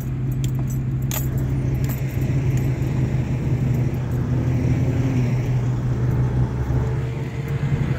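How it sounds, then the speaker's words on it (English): A truck drives toward the listener near a reservoir and clay work site. A steady, loud low engine rumble persists throughout, with some metallic rattling over it. "I got another truck coming."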